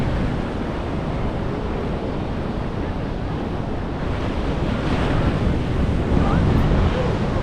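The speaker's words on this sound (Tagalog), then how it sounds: "Sarap sa sarap sa tenga ng mga alon." Ocean waves roll and wash steadily along the coast of Los Angeles, California, with gusts of wind buffeting the microphone throughout; no clear speech is heard.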